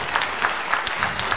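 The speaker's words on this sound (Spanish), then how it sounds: "Otro aplauso para Cabranes." Brief burst of audience applause, dense, steady clapping from a crowd, fairly loud and close, with no voices over it.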